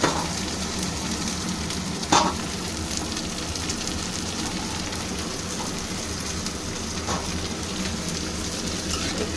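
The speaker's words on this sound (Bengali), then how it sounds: "এবার আমি এতে দিয়ে দেবো এই টমেটো কুচিটা" Chopped tomato hitting browned onions in a hot pan, a dense, steady frying sizzle with a brief sharp clatter near the start, close and constant throughout, without any voices.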